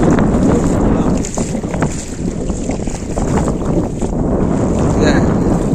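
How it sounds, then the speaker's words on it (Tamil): A boat moves through floodwater with a steady, loud wash of water and wind noise, and a voice speaks briefly over it. "போட்ல போய் கொண்டிருக்கேன்."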